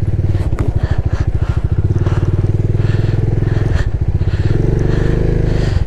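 A motorcycle rides an off-road stretch of a mountain road in Arunachal Pradesh, its engine putting out a loud, steady, close thumping drone with faint rattles over the rough ground.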